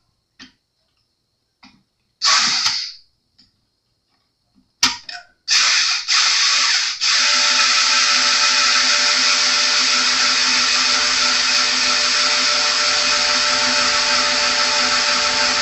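Guitar string wound onto a tuning peg during a restring: a few short bursts at first, then a steady, close mechanical whir that holds evenly until the end.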